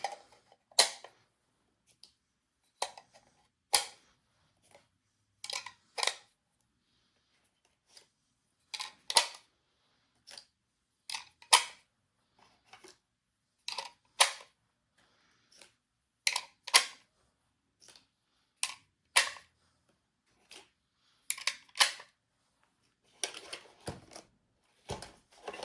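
Rounds are pressed one by one into the magazine of an Egyptian Hakim rifle, giving sharp metallic clicks in irregular bursts with quiet gaps between them, close and isolated.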